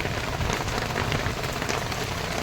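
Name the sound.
heavy rain falling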